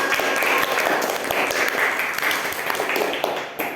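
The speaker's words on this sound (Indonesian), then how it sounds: "Kasih aplaus buat teman-teman." A classroom of vocational high school students applauds classmates after a group presentation, a steady, dense burst of many hands clapping close by that holds for a few seconds before tapering slightly at the end.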